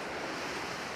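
Ocean waves at high tide roll in as a continuous, broad wash of surf with some wind rumble, heard alone for a brief moment.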